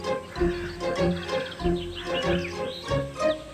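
Crows perched together on a tree branch give repeated harsh calls, several bursts overlapping in a steady, fairly loud chorus with no one speaking.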